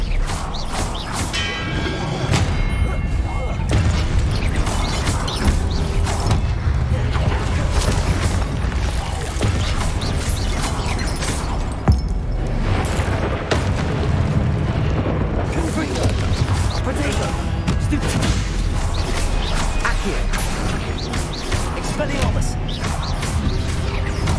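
Magic spells fire in Hogwarts Legacy: a dense, continuous run of booms, crashes and crackling bursts, loud throughout, with a voice speaking over the effects.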